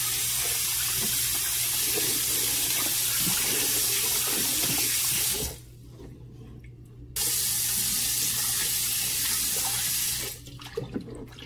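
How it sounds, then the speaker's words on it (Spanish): Tap water runs steadily into a kitchen sink while beef is rinsed for caldo de res, a loud continuous splashing that cuts out briefly twice before resuming. "Lo que yo voy a hacer es darle una lavadita a la carne."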